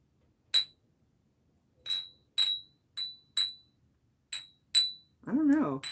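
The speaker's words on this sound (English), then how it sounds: "It has a ring to it. I think it's crystal." Mid-century crystal glassware is tapped about eight times at uneven intervals, each strike giving a bright, clear ring that fades within a fraction of a second, and a brief voice follows near the end.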